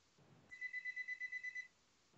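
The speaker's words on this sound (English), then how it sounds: "someone's phone's beeping." A mobile phone beeps in a quick, even string of about nine short electronic tones, faint and steady against a quiet room.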